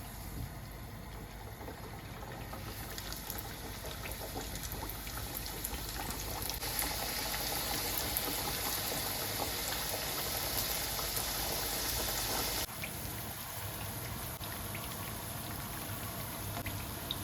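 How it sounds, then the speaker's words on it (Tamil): Sri Lankan Point Pedro vada, a fried dough fritter, sizzling in boiling oil: a dense, steady crackling hiss that carries on unbroken throughout at moderate loudness. "எண்ணெய் கொதிச்சிட்டு இப்போ நாங்கள் வடையை போட்டு போட்டு எடுப்போம்"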